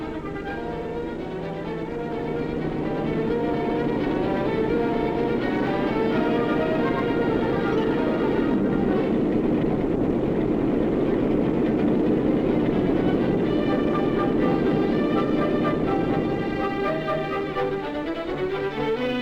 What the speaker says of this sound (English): the train's coming and it can't stop